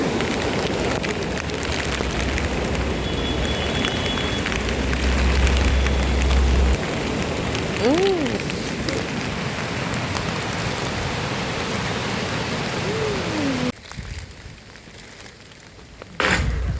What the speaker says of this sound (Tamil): இதுதான் இந்த ஆறு. மழை சீசனுக்காக ரொம்ப ஆக்ரோஷமாக ஓடிட்டு இருக்கு